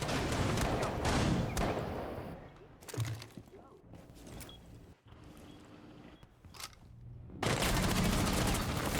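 Gunfire rings out during a Rainbow Six Siege collegiate match, with loud bursts of rapid shots alternating with quieter stretches, while a caster talks over much of it.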